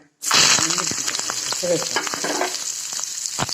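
Onion and curry leaves frying in a pan for upma, with mustard and cumin already in the oil, making a loud steady sizzle broken by scraping stirs and light clatters; no talking.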